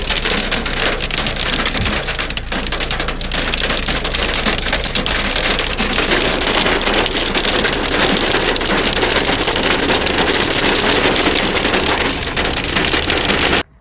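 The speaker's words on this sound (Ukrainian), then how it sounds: "град." Hail pounding steadily on a surface, a dense, loud, continuous clatter like heavy rain that lasts the whole stretch before stopping abruptly, with no voices.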